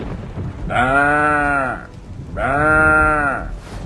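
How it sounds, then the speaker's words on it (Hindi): A cow tied up outside a village house during a storm calls out in two long, drawn-out bleating cries separated by a short pause, loud and close over a rumbling background. "घर के बाहर बंधी उनकी गाय गौरी ने रेंकना शुरू कर दिया।"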